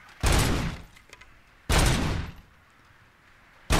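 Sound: gunfire in video game Robocop: Rogue City

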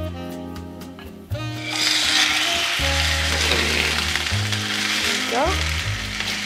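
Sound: red snapper frying in melted ghee in a frying pan

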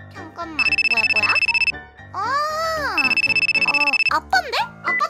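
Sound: phone ringing, incoming call

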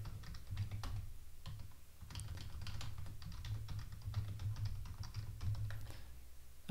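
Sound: typing password on computer keyboard

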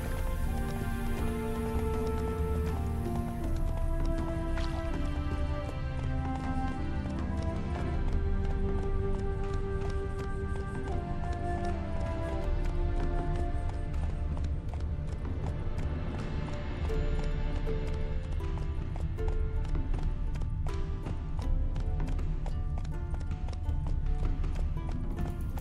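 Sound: horse galloping in video game The Witcher 3

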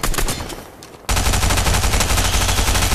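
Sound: gunfire from a gun in Fortnite video game

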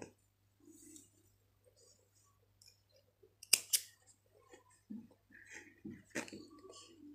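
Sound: scissors trimming crochet yarn tassel

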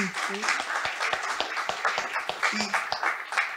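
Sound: applause

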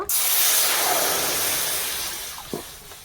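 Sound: water poured into a hot wok, hissing

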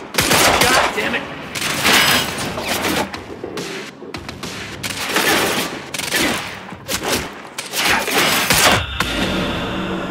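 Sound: gunfire in the video game Quantum Break

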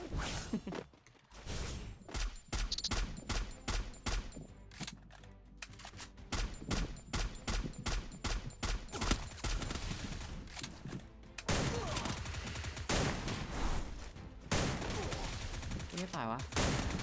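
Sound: gunfire in the video game Free Fire

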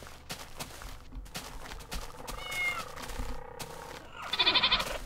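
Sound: goat bleating in Minecraft video game

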